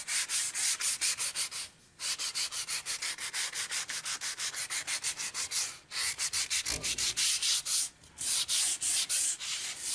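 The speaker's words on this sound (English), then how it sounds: "it all got sanded evenly." Wooden molding for a small chest being sanded by hand: steady, rapid back-and-forth rubbing strokes, close and loud, with a few brief pauses.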